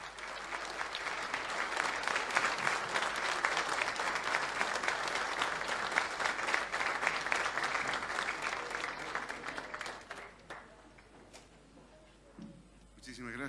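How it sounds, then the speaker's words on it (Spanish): An audience at a formal legislative honor session gives strong, sustained applause, dense and even for about ten seconds before it thins out and fades, with faint voices stirring at the end. "Recibimos con un fuerte aplauso las palabras de nuestro hermano presidente, Luis Alberto Arce Catacora."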